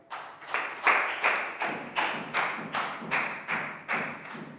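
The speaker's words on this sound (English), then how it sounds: "Big round of applause for Prel." A classroom of young students claps for a classmate in a run of about nine loud, evenly spaced bursts of applause with no talk over it.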